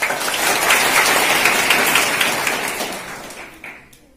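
Children and an audience at a school exhibition clap in a dense, loud patter that holds for several seconds, then thins out and fades.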